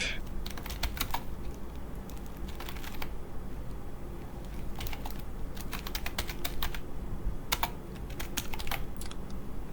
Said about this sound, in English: in the subject we can type something like